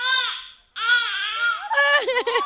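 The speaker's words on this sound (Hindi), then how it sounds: "ओ बेबी चुप कराओ, बेबी रो रहा है।" A baby cries in loud, wailing bursts, with a short pause after the first cry, then a longer sustained wail breaking into choppy, wavering sobs at the end.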